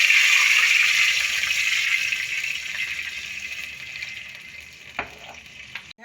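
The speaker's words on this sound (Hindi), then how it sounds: "यहाँ पानी में बिल्कुल जोश आ चुका है।" A pot of water for rice bubbles and hisses vigorously, a dense rushing boil that slowly softens, with a couple of light clinks near the end.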